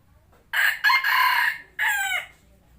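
At close range, a small young decoy rooster weighing roughly 800 grams crows in a single clear, strained call: a sharp first syllable, a long sustained middle, then a falling end, with quiet background hum.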